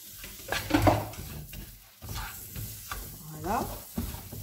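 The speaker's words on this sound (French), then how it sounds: "on va y mettre les oignons à rissoler. Ça va chanter." Red onions frying in a pan with spices, sizzling softly while a utensil stirs and scrapes them, with intermittent clinks and knocks against the pan.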